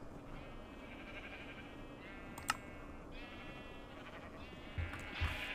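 Minecraft sheep on a Create Mod free-range automatic wool farm give a few quiet, wavering bleats one after another, with small clicks and bumps in the background.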